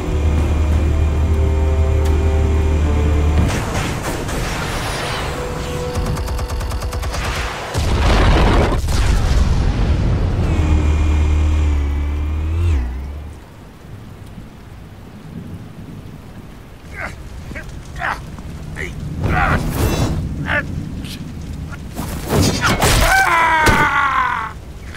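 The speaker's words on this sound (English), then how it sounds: "Explosives armed. Fire when ready." Explosives detonating in Batman: The Telltale Series, heard as loud, deep rumbling booms with crackling debris, building into a sustained roar, then quieter scattered bangs and impacts toward the end.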